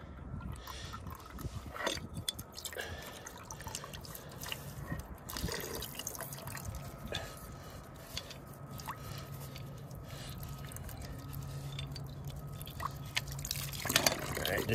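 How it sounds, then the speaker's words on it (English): Water runs and trickles through a shed drainage setup, with steady splashing, drips and liquid gurgles at close range, a faint tonal hum, and brief quiet voices in places. "This should help allow more water to flow."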